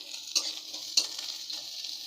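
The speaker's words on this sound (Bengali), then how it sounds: "তেলেতে এবার একটু পেঁয়াজ দিয়ে দেবো" Onions go into hot oil in a wok with a steady bright sizzle, broken by two sharper stirring scrapes near the start; no one speaks.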